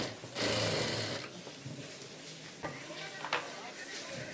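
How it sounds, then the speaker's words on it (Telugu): A sewing machine stitches a small child's blouse along a marked line, a steady close mechanical whirr with faint ticks, while someone talks over it. "ఈ లైన్ పైనే మనము కుట్టు అయితే వేసుకోవాలి"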